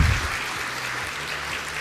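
Applause from the audience closing a public accountability hearing on Colombia's environment and sustainable development sector, a sustained even roar of clapping from a large crowd.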